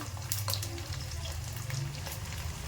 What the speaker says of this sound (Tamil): இந்த பூண்டு வந்து நல்லா இதில் வந்து எண்ணெயில் வேகணுங்க